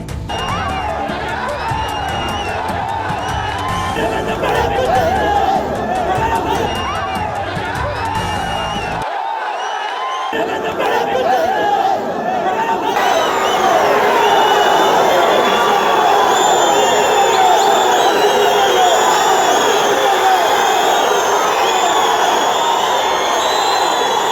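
A crowd at a Kempegowda Jayanti government event chants and shouts slogans, loud and dense. A brief lull comes partway through, then the cheering surges again and stays packed.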